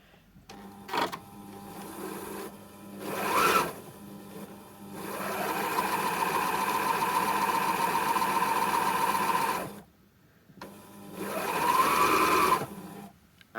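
A Pfaff Classic Style quilting sewing machine runs without a needle fitted, its steady mechanical whir holding for several seconds, then stopping and starting again, with brief handling clicks in between.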